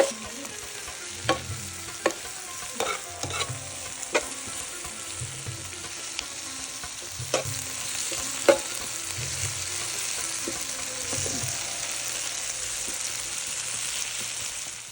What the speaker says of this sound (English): Let the onion cook until it's soft and golden brown.